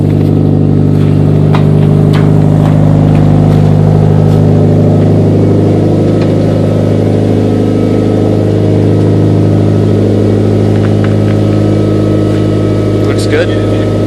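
A Mitsubishi Evo engine idles and warms up right after starting, a loud, steady droning hum that stays constant throughout while people talk over it nearby.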